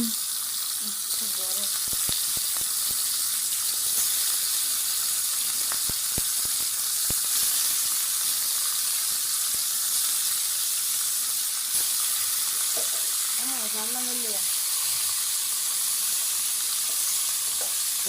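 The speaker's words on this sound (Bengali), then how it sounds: "তেলটা গরম হলেই মাছগুলো এখানে দিয়ে দিব তো এখন আমি একটা একটা মাছ এখানে দিয়ে দিচ্ছি" Pangas and tilapia fish heads fry in hot oil, giving a steady, loud sizzle and hiss throughout, with a few sharp crackles and brief vocal sounds in the background.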